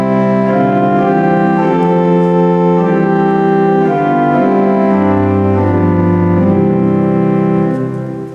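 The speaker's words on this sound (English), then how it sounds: "in the great organ, which is on this side, which is played on the lower manual, you have an 8-foot principal" An 8-foot principal stop on the great organ of a church pipe organ sounds sustained chords with rich, steady harmonics, the lines shifting slowly from chord to chord at even loudness before fading slightly at the close, with no voices.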